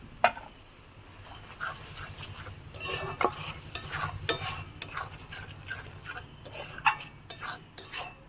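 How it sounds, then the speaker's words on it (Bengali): A ground cumin and coriander paste is stirred as it fries in oil, with a soft, quiet sizzle under repeated scraping and clinking strokes of a spoon against the pan. "দিয়ে খুব ভালো করে মশলাটা কষিয়ে নেব যতক্ষণ না মশলা থেকে তেল ছাড়ছে।"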